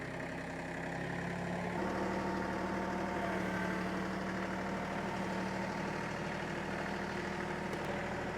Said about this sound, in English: the farther she pushes the pedal, it'll automatically rev up the engine